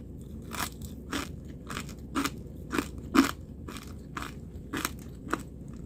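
Crunchy fried potato bitten and chewed up close, about ten sharp crackling crunches in an uneven rhythm over a low steady background.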